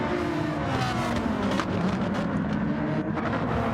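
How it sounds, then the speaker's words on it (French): A Lamborghini race car in a racing video game closes in from behind, its engine a dense continuous roar with revving layered over other car noise, loud and unbroken throughout. "Attention, derrière, là, Lamborghini tout de suite qui arrive dessus."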